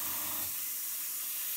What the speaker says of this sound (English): So I'm spraying away from the edge, so I'm not going to blow anything.